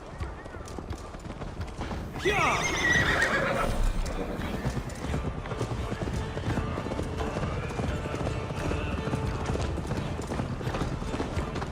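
A horse in Assassin's Creed Valhalla neighs loudly, then gallops with fast, continuous hoofbeats close by, with a voice talking over the running.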